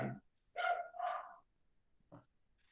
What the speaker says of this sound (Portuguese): Deixa eu esperar os cachorros pararem de latir.